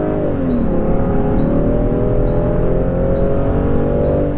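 A Land Rover Defender accelerates hard on a highway, its engine note rising steadily and loudly for several seconds as it pulls through the gears, with continuous road and wind rumble underneath.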